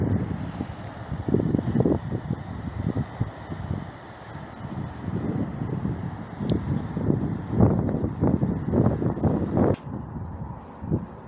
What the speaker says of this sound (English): It was quite windy.